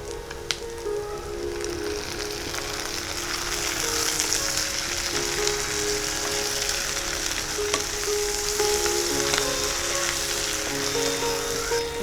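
Chopped tomatoes fry in a pan in an open-air kitchen, giving a continuous crackling sizzle that swells slightly and holds steady and close, with occasional stirring and no talk.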